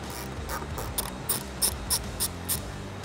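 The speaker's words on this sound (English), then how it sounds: "grab a 7 mm socket and a ratchet and remove these two screws inside the wheel well" A 7 mm socket on a ratchet backs out screws inside the wheel well of a 2015-2017 Ford F-150, with a run of crisp, evenly spaced ratchet clicks growing sharper over a low background hum.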